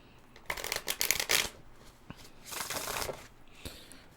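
Tarot cards shuffled by hand in two bursts of crisp riffling and flapping, close and clear, with a soft tap at the end.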